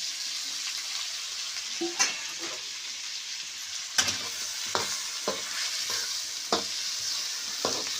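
Eggplant and potato curry sautéed in a pan over a wood-fire stove, with a steady sizzle broken by several sharp scrapes and stirring knocks of a spoon, close and fairly quiet.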